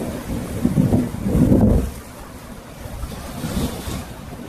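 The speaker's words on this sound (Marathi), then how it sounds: "बघा शकता समुद्र किती खवळलेला आहे, जबरदस्त एकदम सुपर" Rough, churning sea waves crash and surge nearby, with heavy rumbling pushes in the first two seconds fading into a steady wash of surf and wind.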